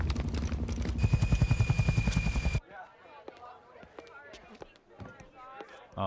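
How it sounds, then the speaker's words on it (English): A helicopter in the Saints Row 2 video game gives a loud, rhythmic rotor chop for a few seconds, then cuts off abruptly, leaving faint game effects and murmured voices. "How did we not notice that helicopter?"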